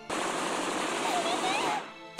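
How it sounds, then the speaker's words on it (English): Sustained rapid automatic gunfire from the game Steins;Gate, loud and continuous for about two seconds before cutting off abruptly. "the gunfire continues"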